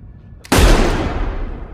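A single loud gunshot rings out in an Indonesian action film scene, with a sharp blast followed by a long, slowly fading reverberant tail and no voices.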